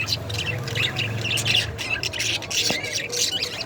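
Pet budgerigars in a cage chirp and squawk busily and close, a steady chatter of bird calls under a person talking.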